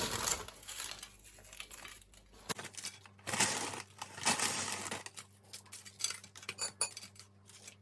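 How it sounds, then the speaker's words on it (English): Crisp tortilla chips scatter and clatter into a baking dish as a new layer of nacho supreme goes down, with scattered crunchy rustles and light clinks, fairly close and without speech. "I'm gonna go in with another layer of tortilla chips"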